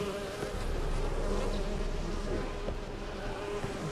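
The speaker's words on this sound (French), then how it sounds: "Celle qui entraîne toutes les mouches là." Flies buzz in The Witcher 3 video game, a steady, dense insect drone that stays level and close throughout with no voices over it.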